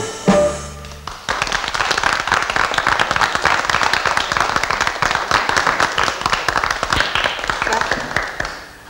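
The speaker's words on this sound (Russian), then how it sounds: "Мне очень приятно разделить эти ваши аплодисменты с мужчиной." Loud, dense applause from a concert audience after a song performance, sustained rapid clapping from many hands filling several seconds after a brief opening burst.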